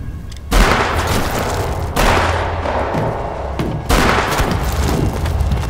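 Pistol shots ring out in a tense scene from Alice in Borderland: three loud, sharp booms roughly two seconds apart over a dense, continuous background rumble.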